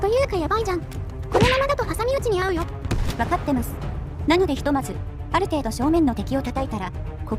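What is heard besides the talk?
No distinct noise like a dog, phone or traffic.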